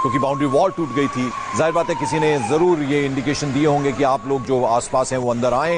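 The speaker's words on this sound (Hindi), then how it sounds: "एम्बुलेंस की आवाज आप सुन सकते हैं," At a plane crash site, an ambulance siren holds a steady high tone behind someone speaking Hindi in the foreground, fading after a few seconds as the talk continues.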